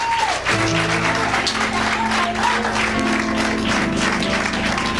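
Church congregation applauding during a worship service, loud sustained clapping mixed with sustained musical tones, continuous throughout.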